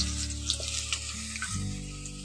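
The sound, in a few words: potatoes frying in oil in a pan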